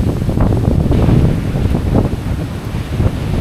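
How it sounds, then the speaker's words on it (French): Strong mountain wind on the GR10 trail buffets the microphone in heavy, low rumbling gusts, loud and continuous with no voices. "le vent soufflait encore plus fort que ça"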